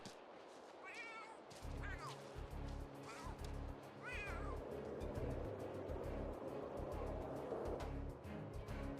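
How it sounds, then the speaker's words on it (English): A cat in The Sims 3 meows several times in rising-falling calls over a busy ambient game background, with soft voice-like bursts and a low pulsing rumble underneath. "I just noticed the cat was running through the territory."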